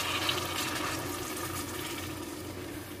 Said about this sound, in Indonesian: Siram air panas.